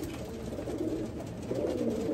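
Low, continuous cooing of pigeons fills a breeding loft, a soft rolling murmur close by that swells toward the end.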